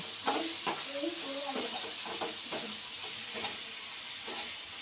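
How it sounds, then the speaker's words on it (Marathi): Spiced potato filling for vada pav, mixed with roasted garlic and curry leaves, roasting in a pan: a soft, low sizzle with a few clicking stirs, and a voice speaks briefly near the start. "हे बघा, छानसं भाजतंय ते, छान वास सुटला।"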